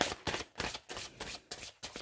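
Tarot cards are shuffled in a series of about seven quick, crisp riffling bursts, each brief papery flutter separated by short gaps, close and fairly quiet.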